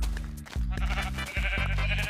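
Sheep in the video game Minecraft give three close, loud, nasal bleats in quick succession, with no talk over them.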